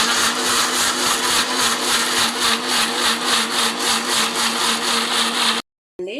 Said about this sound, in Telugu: మిక్సీ జార్లోకి టొమాటోస్, ఉల్లిపాయ ముక్కలు వేసి గ్రైండ్ చేసుకుందాం